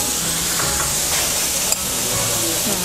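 Beef slices searing on a yakiniku tabletop grill at a Japanese barbecue restaurant in Umeda, Osaka, giving a steady close sizzle with faint stirring and a little background chatter.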